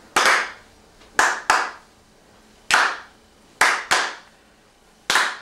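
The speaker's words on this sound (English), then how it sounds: "Everybody start clapping" A small group claps in unison along to a homemade rap, sharp hand claps falling in loose pairs and singles at an uneven rhythm, close and loud against a quiet room with no talking.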